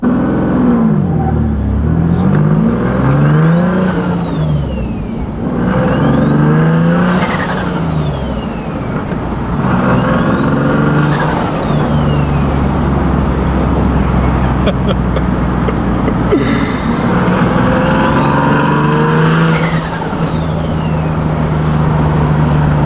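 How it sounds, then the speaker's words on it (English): Modded car fitted with a T51R turbo, revved hard in repeated loud bursts with rising and falling engine pitch and whooshing turbo spool, four or five pulls close to the microphone with a rumbling idle between them. "My exhaust sounds crazy. The turbo sounds crazy."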